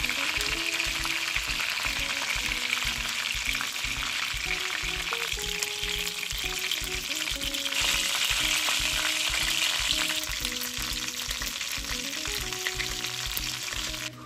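Shrimp fritters wrapped in bottle gourd leaves fry in hot oil with a continuous close bubbling sizzle, broken by occasional stirring and scraping in the pan, with no talking.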